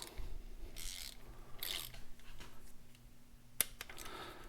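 Torque wrench tightening engine bolts on a 2014 Harley-Davidson during a Stage 2 upgrade, quiet ratcheting bursts and metallic rubbing at close range, with one sharp click near the end.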